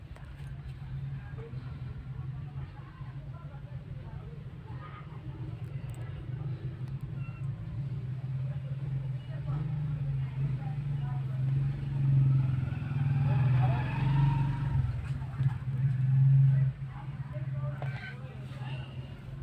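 Steady low engine rumble heard from inside a truck cab, a constant drone with a slight swell midway, close and continuous with no voices over it.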